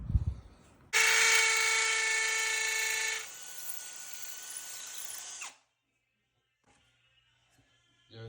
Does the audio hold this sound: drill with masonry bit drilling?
yes